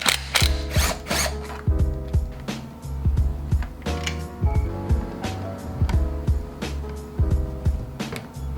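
A ratchet tool working loose the carburetor on a Japanese dirt bike, rapid repeated metallic clicking strokes in steady bursts, loud and close with no talking.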